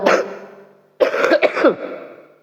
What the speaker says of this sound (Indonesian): Langsung batuk.